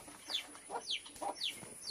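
A hen clucks in short repeated bursts about three times, close by with a steady high whine in the background and no voices.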